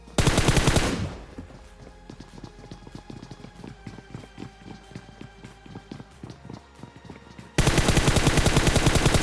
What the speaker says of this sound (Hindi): यहाँ पे अपार्टमेंट में आता है और पहले से फायरिंग बजाने लगा था